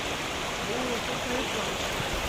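Strong floodwater current rushing across a damaged asphalt road after rain, a steady broadband roar of flowing water close by, with faint voices briefly underneath.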